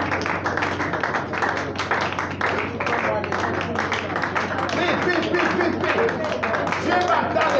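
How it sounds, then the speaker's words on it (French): A congregation at a prayer gathering claps their hands in a steady, dense rhythm, loud and continuous, mixed with voices and crowd noise. "Tape les mains, comment ça fait?"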